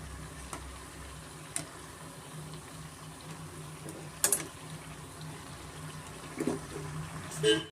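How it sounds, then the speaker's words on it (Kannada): Rava vada frying in hot oil makes a steady bubbling sizzle, with a few sharp clinks of a utensil and a voice talking intermittently over the cooking. "ಚೆನ್ನಾಗಿ ಎರಡು ಸೈಡು ನಾವು ಚೆನ್ನಾಗಿ ಫ್ರೈ ಮಾಡ್ಕೊಬೇಕಾಗುತ್ತೆ"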